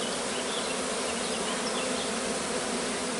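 Honeybees fan at the hive entrance after a swarm, a dense, continuous buzzing hum, close and steady throughout.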